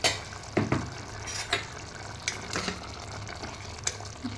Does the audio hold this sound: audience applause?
no